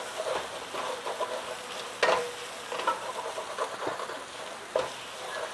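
Ginger garlic paste fries in a pan over low-medium heat while being stirred, giving a steady close sizzle with scraping spoon strokes, the sharpest stroke near the middle and a few lighter ones after.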